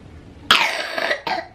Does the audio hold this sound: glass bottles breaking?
no